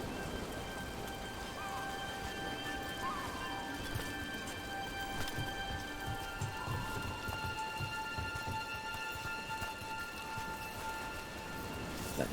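Steady rain falls in the Dragon Age The Veilguard video game, a dense, constant hiss of drops on surfaces that fills the scene from start to finish, with faint deeper rumbles underneath.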